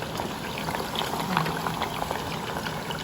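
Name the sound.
water boiling in pot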